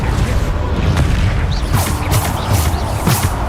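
Repeated Bombarda blasting-spell explosions from the video game Hogwarts Legacy, a steady run of loud booming bursts and crashes that come one after another over dense game noise.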